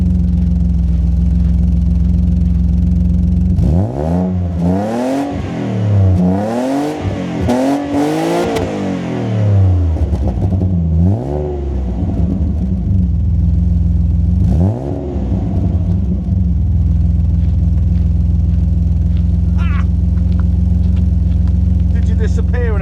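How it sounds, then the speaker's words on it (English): Alfa Romeo 156 with the 24-valve Busso V6, started cold and not warmed up, idling steadily then blipped through several loud rising and falling revs, settling back to a low idle, heard close by. "I'm off over here to rev it"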